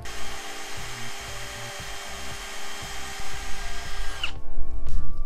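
A power drill bores a hole into a living tree trunk, its motor whining steadily with a pulsing, stuttering low grind for about four seconds before spinning down, followed by brief handling noise.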